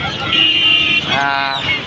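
Chickens and guinea fowl at a country poultry market in Mydukur let out loud, close, harsh honking calls, with crowd noise in the background.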